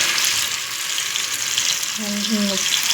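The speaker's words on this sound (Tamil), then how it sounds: "நம்ம வந்து மீனை போட்டுட்டு வறுக்க போகிறோங்க" Marinated fish fries in hot oil on a stone griddle, producing a loud, continuous hiss close by, with a brief voice rising over it near the end.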